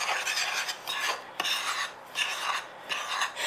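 Plain flour, sugar and baking powder are mixed together in a bowl, making a steady gritty rasping that repeats in short rhythmic strokes, close and quiet, with no voices.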